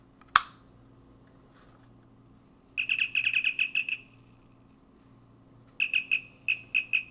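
After a single click, a Star Trek Deep Space Nine communicator replica prop chirps in two bursts: first a quick warbling trill, then a sparser series of beeps, loud and near against quiet hum.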